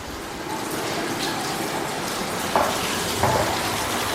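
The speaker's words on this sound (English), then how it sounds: "You can see the water flow. That's on full blast at the tub. The shower is currently on." Water running full blast from bathtub and shower taps in a new-build bathroom, a steady loud rushing gush with a couple of faint clinks over the flow.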